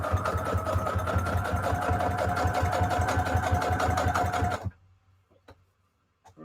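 A sewing machine stitches two separate fabric parts of a junk journal cover in a steady, fast mechanical run lasting several seconds, then stops abruptly, leaving near silence with a few faint handling clicks.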